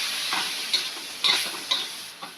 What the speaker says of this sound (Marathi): गॅस एकदम कमी ठेवायचा आहे पूर्ण थोडंसं पाण्याचा हपका मारून घेते